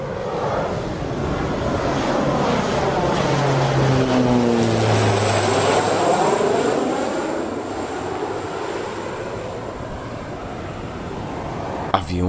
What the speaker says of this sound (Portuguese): Aviões indo e vindo